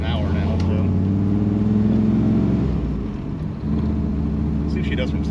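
Interior drone of a turbocharged LT1 car cruising, a steady low engine hum that swells briefly then dips as the throttle lifts, close and continuous with no voices.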